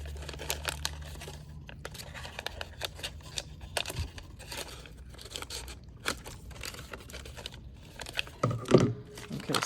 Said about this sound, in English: probably just go in and cut these darts away